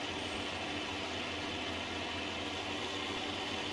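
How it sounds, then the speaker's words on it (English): A White tractor engine in Farming Simulator 19 runs with a steady, noisy drone that holds unchanged throughout, dense and close, with no voices over it. "White is such a noisy tractor."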